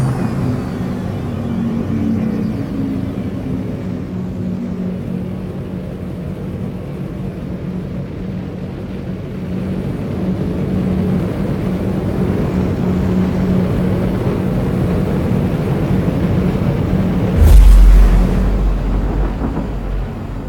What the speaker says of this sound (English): Afterburner that shit in there.